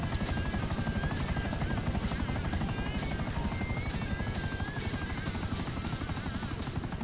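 A helicopter rotor in the video game GTA V Online produces a loud, continuous chopping whir that holds steady throughout, close by, with a faint engine whine layered on top and no voices.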